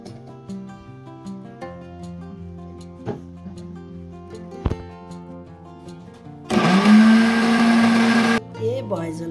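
A kitchen mixer grinder whirs loudly for about two seconds as it grinds home-grown herbs, mint and chili into a spice paste for fried meat, after a stretch of quieter voice and background tones.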